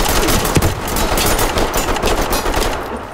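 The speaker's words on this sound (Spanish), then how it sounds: "¿Dónde viene los tiros? Los tiros se vienen por aquí." Gunfire in the tactical shooter video game Ready or Not, loud bursts of rapid shots and crackling automatic fire continuing throughout without speech.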